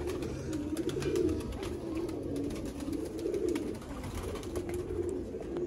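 Pigeons of a prized Sialkoti breed coo softly in their loft, low rolling coos repeating under a background of faint rustling and clicks.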